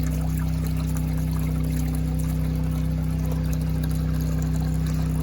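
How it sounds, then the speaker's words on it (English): Water from an off-grid gravity-fed hot water system trickles slowly out of a pipe into a makeshift trough, a thin steady pour over a constant low mechanical hum, close and quiet with no voices. "some water coming out here."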